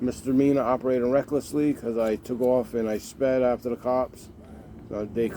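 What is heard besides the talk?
No everyday noise stands out behind the speech.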